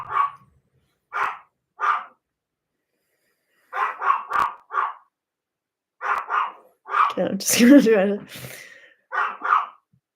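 Sharp, repeated dog barks come in short bursts of two or three, fairly close, while a person talks over them.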